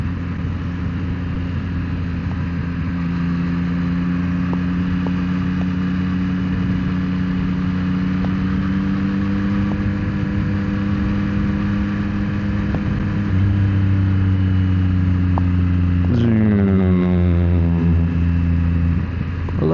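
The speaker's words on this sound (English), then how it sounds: "I love the sound of this exhaust, even if it's quiet." A motorcycle exhaust hums steadily while riding, a low, fairly quiet engine drone with a constant pitch that drops and shifts near the end as the bike slows, with wind noise throughout.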